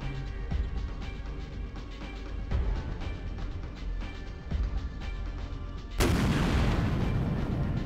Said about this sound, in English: Oh, that was a nasty explosion.